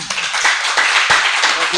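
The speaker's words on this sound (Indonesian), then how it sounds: "Tepuk tangan." Brief burst of clapping from a crowd, mixed with a voice speaking over it.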